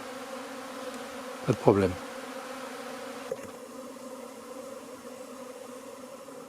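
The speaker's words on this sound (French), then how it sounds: "Je constate que les abeilles reviennent à l'emplacement où je les ai sortis le premier jour" Honey bees stream out of test hives on their fifth flight after 61 days of cellar wintering, a steady faint buzzing hum with a louder close pass near the middle and a short spoken remark.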